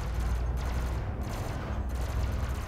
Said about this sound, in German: Die Kanone geht durch das Schiff durch.